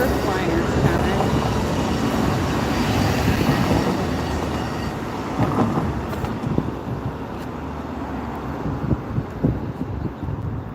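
An Amtrak Surfliner passenger train passing along the coast near a beach, a loud rushing rumble with rail clatter that builds and then thins into scattered clicks and knocks as the cars go by.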